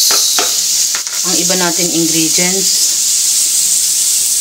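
Chopped ground pork sizzles and toasts in a hot pan, a steady bright frying hiss running throughout with occasional stirring, while a voice talks briefly over it.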